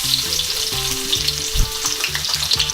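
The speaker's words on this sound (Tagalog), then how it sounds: "Ngayon naman po ay pwede na nating igisa itong ating sibuyas." Onions sautéing in hot cooking oil, a loud, steady close sizzle and crackle with light stirring throughout, no voices.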